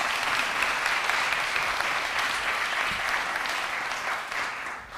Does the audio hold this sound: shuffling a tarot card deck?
no